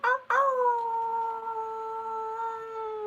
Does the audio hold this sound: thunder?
no